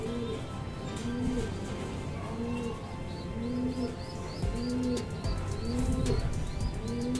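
Racing pigeons coo close by in a steady, repeating pattern of soft rolling calls over a constant background hum, with faint chirps and occasional wing movement.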